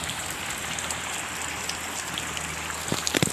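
Heavy morning rain pours in a constant, loud hiss, with a few sharper drops spattering close by near the end.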